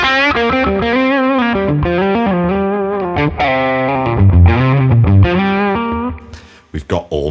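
Electric guitar on the bridge pickup through a Tone King Imperial MkII amp plugin, playing a melodic low-gain lead line with slightly dirty, singing sustained notes that ends with a few choppy strums.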